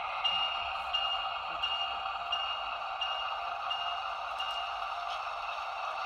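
A model train locomotive's bell rings in a steady, continuous metallic tone throughout, close and even in level, with no talking over it.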